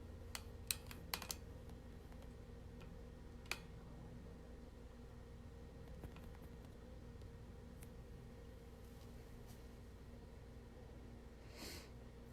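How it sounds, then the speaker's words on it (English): Light, irregular keystrokes on a computer keyboard, a quick cluster of clicks at the start, then sparse taps and a short burst near the end over a faint steady hum and breathing. "I'll type in my answer."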